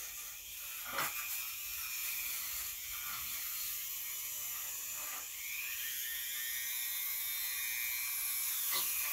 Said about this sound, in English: I got a nylon brush here on the Dremel, so just take and fire this up.